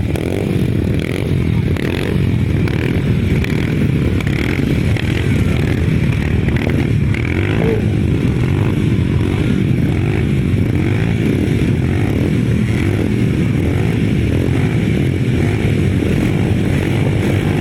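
Grasstrack racing motorcycles in the 250 Classic class rev loudly together on the start line, a dense continuous engine roar with rasping, fluctuating revs throughout and no voices.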